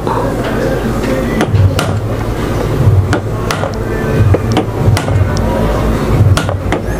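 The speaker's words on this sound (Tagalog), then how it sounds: "Sundan pa natin ng pukpuk para medyo pumihit ng malayo." Hammering on a stuck screw in an electric fan motor: loud, close taps repeating every second or so over a steady, dense background rumble.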